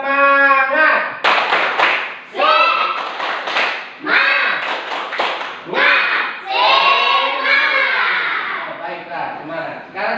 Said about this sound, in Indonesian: Kita sama-sama tepuk semangat.